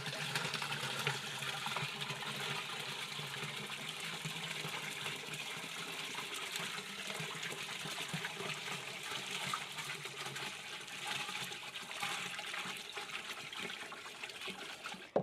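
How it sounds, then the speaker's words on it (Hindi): Liquid organic fertilizer made with cow dung, banana peels and jaggery pours steadily into a large tank, a continuous splashing trickle lasting the whole stretch with no talking. "बड़े टैंक में डालेंगे इसको।"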